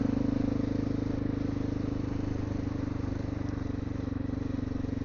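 A Honda XR650L motorcycle rides a county road in the Ozarks, its steady engine thrumming loud and close with an even pulsing throb throughout, no talk.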